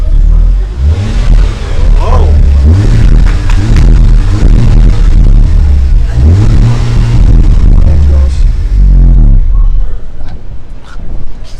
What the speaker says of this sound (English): I'll go start up the car for you and you can listen to it